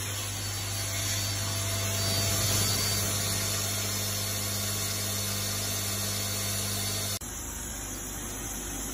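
A 2005 Daewoo DMV 4020 machining center spindle runs at 6,000 RPM, giving a steady, loud mechanical whine with constant tones, shifting abruptly near the end.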